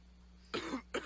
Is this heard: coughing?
yes